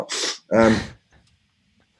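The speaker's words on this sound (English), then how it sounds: "sorry, I'm going to sneeze." A single sneeze, with a sharp inhale followed by a loud, close explosive burst, then quiet.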